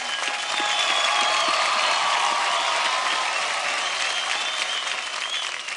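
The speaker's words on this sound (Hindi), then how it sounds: "जोरदार तालियां ऋतुराज के लिए।" A studio audience at a dance show claps loudly in a dense, sustained round of applause for a young performer, steady and full for several seconds before easing off slightly at the end.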